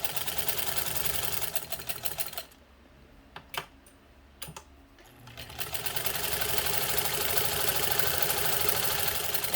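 A 1948 Singer 15 sewing machine stitching in a fast, steady mechanical chatter, pausing briefly in the middle with a few isolated clicks before running again at full pace.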